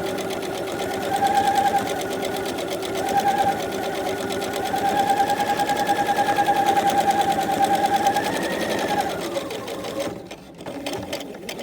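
A sewing machine runs steadily while stitching along the long side of a fabric face mask, its rapid motor hum continuing for about nine seconds before stopping, then quiet handling noises.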